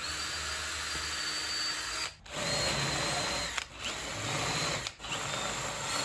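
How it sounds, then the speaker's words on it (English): A power drill bores and countersinks mounting holes in a wooden spacer, whining steadily and close, briefly dropping out three times between passes. "drilled the mounting holes for the spacer and countersunk those holes for the screw heads"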